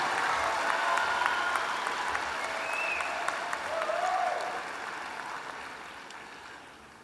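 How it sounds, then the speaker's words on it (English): Warm, sustained applause from a commencement crowd at a business school graduation honoring Executive MBA graduates, steady clapping that gradually fades toward the end, with faint whistles cutting through. "One more round of applause for the 2024 graduates of the Executive MBA program."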